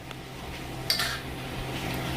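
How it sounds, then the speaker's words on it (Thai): Stir-frying Thai jungle curry with pork cartilage and holy basil in a pan: a steady, close hiss of frying under a metal spatula scraping and a single sharp clink of utensil on pan near the middle. "แล้วก็ผัดไปอีกรอบหนึ่ง"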